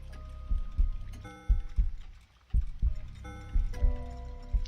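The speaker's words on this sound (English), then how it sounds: "there's a heartbeat if you get close to a room that's occupied" A thumping heartbeat near an occupied room in The Sexy Brutale video game, double-beat pulses repeating about once a second over a soft musical background with a brief quieter gap midway.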